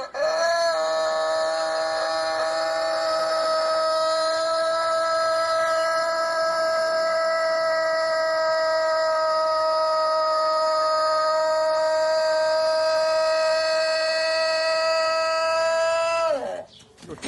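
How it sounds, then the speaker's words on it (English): A cockerel in Turkey gives one very long, steady crow that holds an even, ringing pitch for about sixteen seconds before it cuts off. The call is loud and close, with no other sounds around it. "This is of a cockerel in Turkey."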